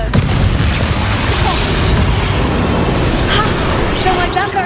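A Confringo fire spell blasts during combat in the Hogwarts Legacy video game, making a loud, sustained booming roar with crackling bursts that fills the whole stretch, with a voice partly under it.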